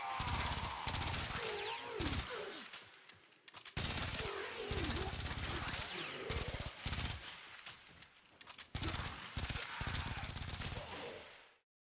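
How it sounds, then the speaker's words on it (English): The Baza, a silenced rifle in the video game Warframe, fires in long rapid automatic bursts of muted cracks, broken by short pauses, with an electronic game music bed underneath and a fade to silence at the end. "Baza is a silenced crit rifle, perfect for running missions without alerting enemies"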